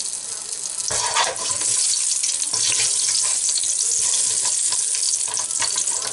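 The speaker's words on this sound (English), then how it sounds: "I'm going to whack a cinnamon stick in there" Cinnamon stick dropped into hot oil in a pan while cooking chilli con carne, giving a steady, loud sizzle and crackle that fills the clip, with no one speaking.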